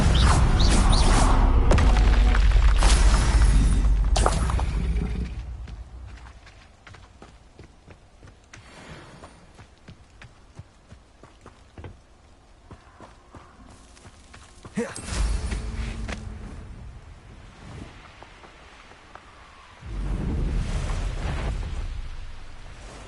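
A Confringo blast spell in a Harry Potter game on PS4, a loud burst of explosive noise at the start, followed by quieter rumbling and two more heavy bursts later on.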